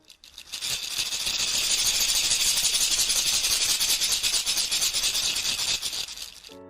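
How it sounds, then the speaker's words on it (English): Shekere, an African beaded gourd rattle, shaken steadily for several seconds, a dense, bright rasping hiss with quick pulsing rattles, close and fairly loud, alone. "This is a shikere, a beautiful instrument from Africa that makes a sound like this."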